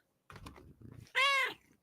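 A house cat lets out a single loud, drawn-out meow, preceded by soft rustling and tapping sounds, with no voices over it.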